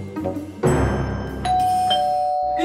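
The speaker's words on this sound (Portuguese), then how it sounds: "Tocou a campainha." A doorbell rings indoors with a loud two-tone ding-dong, the tones sustaining and overlapping before fading, heard alone without talking.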